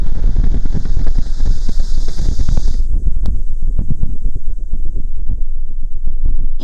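Steady wind noise buffeting a microphone outdoors during a test of Sony WH-1000XM5 noise-cancelling headphones, a loud broadband rush that continues throughout, with a brief hiss band early on.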